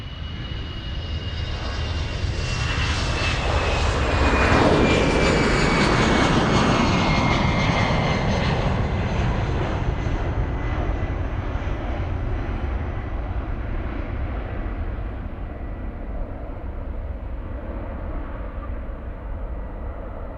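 An EasyJet airliner passes at Munich airport, its loud engine roar swelling to a peak around the midpoint with a descending whine, then slowly fading as the aircraft moves away.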